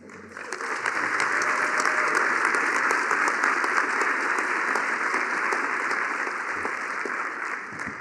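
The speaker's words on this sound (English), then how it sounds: "Let's give another round of applause to our great student and faculty representatives." Sustained audience applause at an outdoor university groundbreaking ceremony for a health science innovation center, a dense steady wash of many hands clapping at fairly close range for the full length, with no talk over it.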